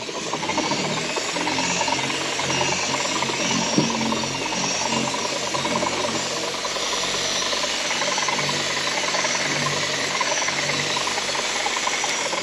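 Power polisher with a pad buffing a wet car headlight coated in scratch and swirl remover, a constant loud motor whir with gritty rubbing noise, steady and close throughout with no talking.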